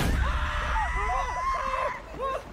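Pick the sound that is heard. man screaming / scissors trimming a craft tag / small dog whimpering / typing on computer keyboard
man screaming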